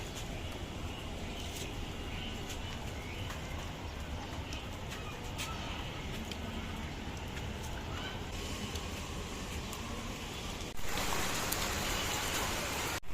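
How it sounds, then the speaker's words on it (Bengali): Light rain falls outside in Chittagong with a steady soft hiss and scattered tiny drop taps, faint and continuous. Fowl cluck softly in the distance, and the hiss thickens briefly near the end. "বাইরে একদম হালকা ফুলকা বৃষ্টি পড়ছে, এই হালকা ফুলকা বৃষ্টি পড়ছে।"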